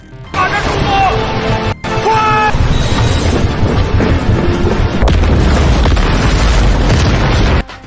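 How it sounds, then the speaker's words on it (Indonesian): A blasting team sets off an explosion in a disaster film. Loud, deep booms and rumbling blasts roll through a dense, dramatic soundtrack, with a brief cut in between. "segera meminta bantuan tim peledak untuk meledakkan suatu titik yang mereka teliti"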